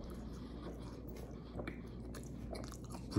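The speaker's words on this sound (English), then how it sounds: "Potatoes are crunchy." Quiet, close chewing and biting on crispy Taco Bell potatoes with soft crunches, steady and unhurried, against a faint low background hum.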